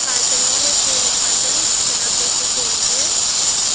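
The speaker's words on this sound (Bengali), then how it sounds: "ডিমগুলো ভেজে নিলাম।" Eggs fry in hot oil, giving a loud, close, continuous bright hiss and sizzle that holds steady without a break for the whole stretch.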